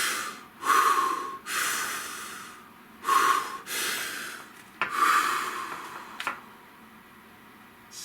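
Slow, deep breaths drawn in and let out close to the microphone, several in succession with quiet gaps between them, and no talking.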